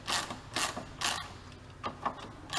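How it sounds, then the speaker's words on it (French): A 16 mm socket on a ratchet wrench loosens a ball joint on a Renault Laguna. It gives about six short, close bursts of rapid clicking, spaced roughly half a second apart. "à la douille de 16, on va défaire la rotule"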